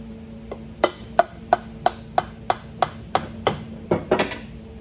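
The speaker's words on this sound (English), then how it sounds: "Rubber hammer." Sharp taps ring out about eleven times in a steady rhythm, each a crisp knock of a rubber hammer on light valve springs of an old RV engine, close and fairly quiet.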